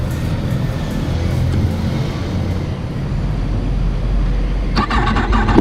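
A 2019 Yamaha R1 fitted with an SC Project exhaust rumbles loudly and close at idle, a deep raspy drone that breaks into a sharp rev near the end.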